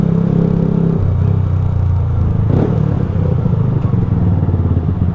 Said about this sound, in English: The exhaust is a Scorpion Paracone